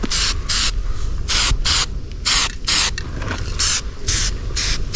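Short hissing bursts from a spray can as Rust-Oleum rust reformer primer goes onto slightly rusty metal parts, about ten quick blasts in an uneven rhythm, close and fairly loud.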